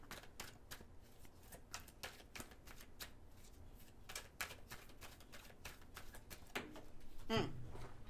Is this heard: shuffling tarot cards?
yes